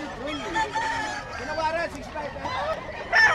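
A Sweater gamefowl rooster crows at the Bocaue pet market, its drawn-out call rising over steady chatter and voices from the crowded stalls nearby.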